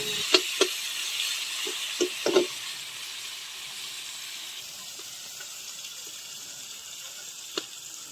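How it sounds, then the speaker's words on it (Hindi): Tomatoes tipped into green chillies and onions frying in oil over a clay stove, giving a steady soft sizzle with a few sharp splattering crackles early on and one more near the end. "हरी मिर्च और प्याज फ्राई होने के बाद में टमाटर डाल दिया।"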